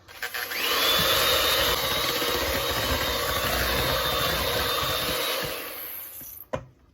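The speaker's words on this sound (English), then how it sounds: "let's mix this here on up in the mixer" An electric mixer beats sweet potato pie filling with a steady, close whirring motor drone that runs for about five seconds and then cuts off. No one speaks.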